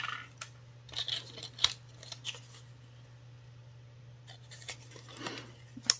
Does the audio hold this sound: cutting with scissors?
yes